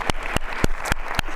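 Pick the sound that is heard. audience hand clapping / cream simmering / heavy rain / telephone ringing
audience hand clapping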